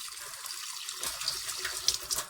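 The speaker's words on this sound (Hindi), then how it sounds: "अब हमने इसमें 2 से 3 मरतबा साफ पानी डालना है" Clean water splashes and trickles into an electric kettle being rinsed, a bright, close pouring sound that grows busier halfway through, with no talking.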